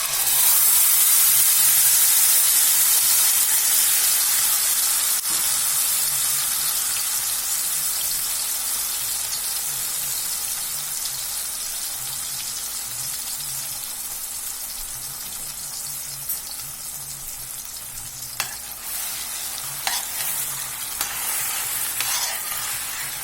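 Onion and tomato paste hits a hot pan for a stuffed brinjal curry, a loud continuous sizzle that slowly settles and softens, with a few faint utensil taps later on.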